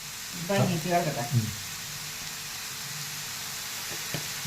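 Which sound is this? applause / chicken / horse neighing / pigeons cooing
chicken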